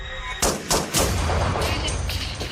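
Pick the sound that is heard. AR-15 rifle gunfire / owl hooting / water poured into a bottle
AR-15 rifle gunfire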